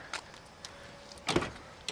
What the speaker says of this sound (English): So let me open up the passenger door.